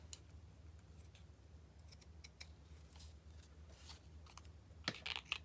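Scissors trimming Christmas craft material, a series of quiet, sharp snips and clicks scattered over a faint background hum, ending in a couple of closer, louder cuts.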